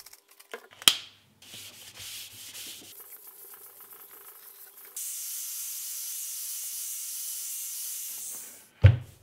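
Scrubbing the metal main column of a drill press with industrial cleaner to strip old gunk, heard as close rubbing and scouring strokes that change pace partway through, then a steady hiss-like scrub, with a sharp knock at the start and end.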